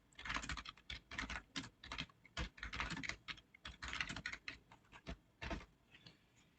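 Code being typed on a computer keyboard, with close, crisp bursts of rapid key clicks and short pauses between them, alone and fairly quiet.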